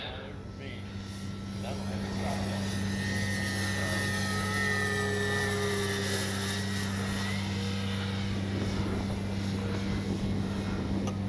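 A DYNAM EMB-312 Tucano RC model airplane flies on its maiden flight, its small motor giving a steady, distant whine that rises and falls in pitch as it passes, over a constant low background hum.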